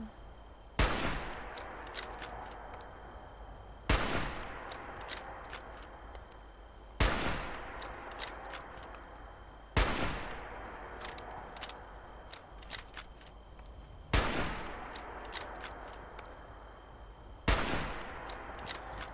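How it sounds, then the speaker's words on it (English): Gunfire from Fallout 76 rings out in six evenly spaced single shots roughly every three seconds, each a sharp crack with a fading tail over a quiet background. "I was shooting."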